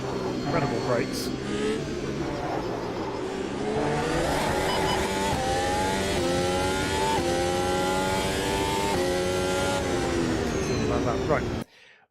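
Formula Ultimate race car in Automobilista 2, its engine revving loud and steady with rising and falling pitch through gear changes, cutting off sharply at the end.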